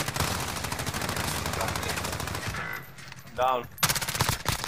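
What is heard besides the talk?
hip-fire gunshots in Call of Duty Warzone video game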